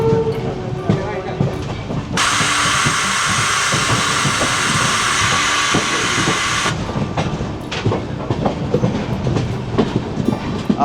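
A Konkan Railway passenger train runs from Panvel toward Ratnagiri in monsoon rain, its wheels clattering in a steady rhythmic clickety-clack. A loud rushing wash of rain or wind swells over the middle stretch.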